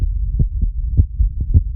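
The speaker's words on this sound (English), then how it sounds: "I'm very aware of my own heartbeat" A heartbeat thuds in low, muffled pulses with an uneven rhythm, close and alone over a dull hum.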